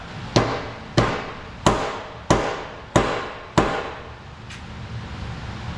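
A car's exhaust pipe is hammered into place on a 2005 Chevy Trailblazer: six sharp, evenly spaced metallic blows ring out close by, followed by a fainter seventh tap.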